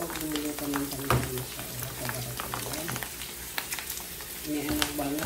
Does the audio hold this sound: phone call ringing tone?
no